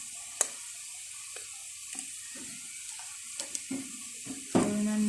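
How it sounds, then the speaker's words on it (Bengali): Onion and whole spices, including cinnamon and cardamom, frying in oil for a vegetable khichuri, giving a steady sizzle broken by scattered clinks and taps, with a louder burst of sizzling near the end. "পেঁয়াজটার সাথে আমি গোটা মশলাটাকে সুন্দর করে ভেজে নিব"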